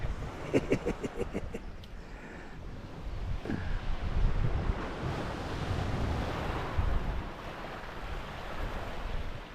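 Light breeze and gusting wind at a beach wild campsite, a steady broadband rush with surf-like wash and wind buffeting on the microphone, a few brief clinks of camping gear near the start, no talking.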